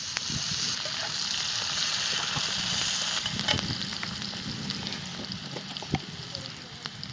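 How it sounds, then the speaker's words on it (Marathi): Onion fries in a pan without oil at first, giving a steady soft sizzle and crackle with occasional stirring clinks, heard close and fairly quiet throughout. "आधी कांदा जरा भाजून घेतला"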